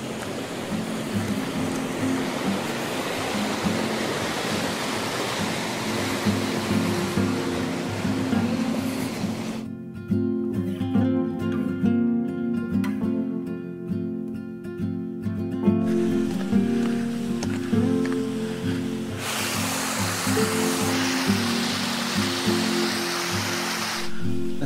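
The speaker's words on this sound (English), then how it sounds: "That's the beck down there, which just continues to accompany us along the ridge." A mountain beck tumbles along below a ridge near St. Sunday Crag, a continuous rushing water noise that drops out briefly mid-clip, where music takes over, before the broadband flow returns.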